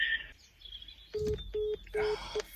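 A telephone being dialed: four short touch-tone beeps in an uneven sequence, preceded by a brief chirping tone, heard close with faint background noise.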